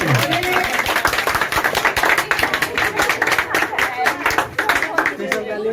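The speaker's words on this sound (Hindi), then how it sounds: "कृपया अपने लिए तालियां बजाइए जोर से।" Crowd at an Independence Day program claps loudly for themselves, a thick, energetic burst of many hands with voices and a cheer or two mixed into the steady clatter.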